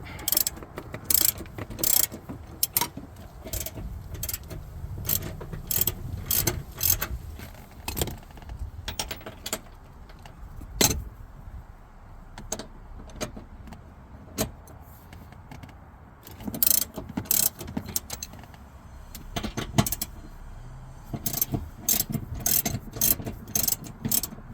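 Ratchet with a 15 mm socket working seat bolts loose in a GMT-800 truck cab, clicking in irregular bursts of pawl ticks with metallic clinks between, close up and without talk.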